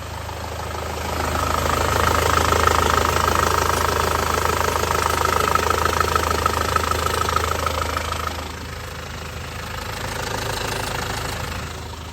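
A 2.0 Ingenium engine in a Range Rover Evoque idles steadily with a close, even mechanical clatter and hum, easing slightly quieter partway through, with no talking.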